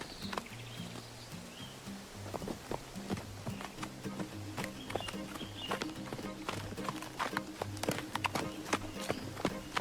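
Horse hooves clip-clop in a rapid, repeating rhythm in the Roblox game Stride Away, the quiet patter of game footsteps continuing throughout with occasional sharper clicks.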